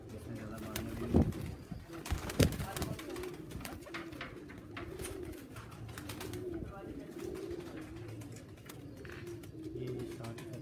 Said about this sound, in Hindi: ये 2-3 साल से हमारे अच्छे कबूतर उड़ रहे हैं।